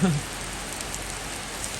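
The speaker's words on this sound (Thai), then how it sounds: "ไม่มีท่าทีจะหยุดเลยค่ะ พี่ๆ ฝนนะคะ ตกมาแบบอืม" Steady rain pours down during a storm, a dense, even hiss of falling water that fills the whole short stretch, with a brief faint voice at the very start.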